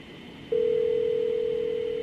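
A telephone sounding in a Gacha Life animation: a single steady electronic tone starts suddenly and holds unbroken, loud and close over a low background hum.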